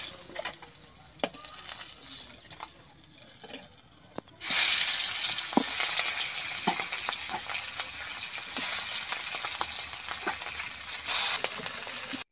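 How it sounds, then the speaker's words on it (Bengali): Rui fish pieces in a pan, faint crackling with clinks of a utensil, then a sudden loud, steady sizzle of frying that fades slightly and flares again near the end. "মাছ ভাজি হয়ে গেছে"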